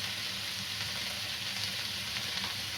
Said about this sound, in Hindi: एक बार इसको सॉटे कर लिया है 30 सेकेंड तक।